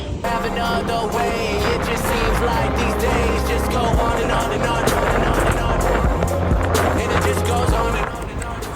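Electric scooter riding on a Glovo food delivery run, a continuous loud whirring motor drone with wind and road rumble, steady and close throughout.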